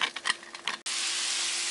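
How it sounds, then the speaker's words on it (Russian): Steady, bright hiss of onion and carrot frying in hot oil in a pan, starting abruptly after a few soft clatters and holding loud and even. "приступаем к обжарке овощей"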